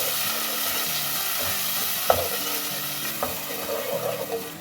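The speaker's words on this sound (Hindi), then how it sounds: "हाफ टी स्पून हल्दी से अच्छे तरीके से मिक्स कर लें" Salt, red chilli and turmeric being stirred into chopped potatoes and carrots in a pan: a steady sizzle with scraping stir strokes and a couple of sharp clinks, close and alone.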